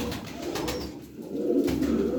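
Aksaray tumbler pigeons coo in a steady, low, throaty murmur, several birds overlapping close by with a brief dip in the middle before the cooing swells again.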